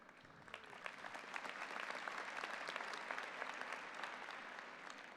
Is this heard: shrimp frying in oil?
no